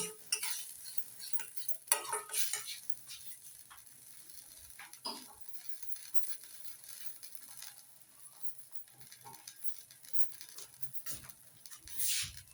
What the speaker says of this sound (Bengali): এটা দিয়েও আমি একটু সময় এগুলোকে একটু কষিয়ে নেব